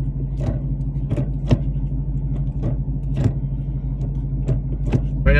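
A 2024+ Ford Mustang on street springs runs close by with a steady low engine drone, punctuated by periodic clicks and soft thumps.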